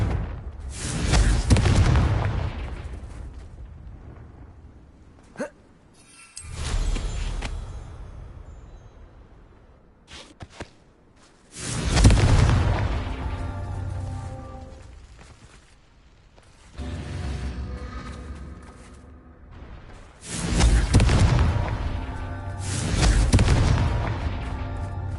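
Confringo blasting-spell explosions from the Hogwarts Legacy video game: four or five loud booming blasts spaced several seconds apart, each with a rumbling tail and crackle, no talking.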